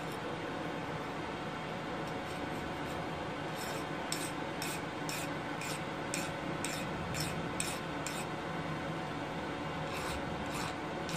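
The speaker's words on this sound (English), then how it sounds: "I'm gonna test to see if it still skates a file" A file skates across the hardened face of an Anglo Saxon anvil in a series of rapid rasping strokes, each one a short bright scrape, running steadily and close up with no talking.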